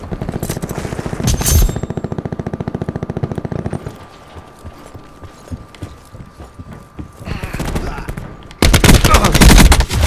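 Assault rifle gunfire in Call of Duty Black Ops 4 comes in rapid automatic bursts: one long close burst, then a lull with scattered shots and game noise, then another loud sustained burst at the end.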